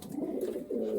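Racing pigeons coo in a loft, two rolling, throaty phrases sounding close and fairly loud, one after the other with a short break between them.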